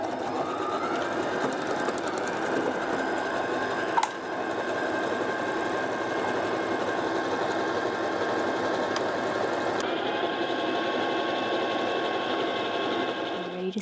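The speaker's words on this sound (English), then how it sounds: "get sewing." A sewing machine stitching a dress runs continuously at a steady, fast mechanical rhythm, loud and close, with one brief pause partway through.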